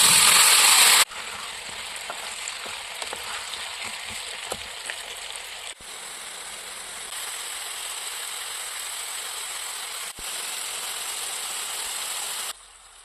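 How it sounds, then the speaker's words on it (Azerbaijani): Salted potatoes frying in rendered sheep tail fat in a pan give a steady, dense sizzle that runs without a break. A louder burst opens it and a few soft clinks sit underneath, with no talking. "Kartofun üzərinə duz əlavə edib yaxşıca qarışdırıb tavaya əlavə edib qızardırıq."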